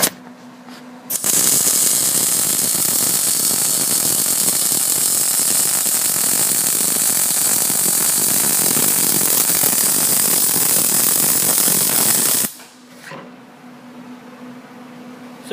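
MIG-style welding a bead on steel plate: a steady, loud crackling and sizzling hiss running unbroken for about eleven seconds, close up, starting and stopping abruptly with quiet shop hum on either side.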